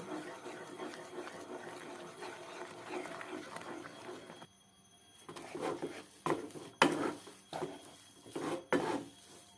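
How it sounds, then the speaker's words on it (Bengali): Semolina being stirred into boiling water in a pot, a rough rasping scrape of the spoon against the pot, continuous at first, then a short pause followed by several separate stirring strokes. "এখন এর মধ্যে অল্প অল্প সুজি দেব আর অনবরত নাড়াতে থাকবো"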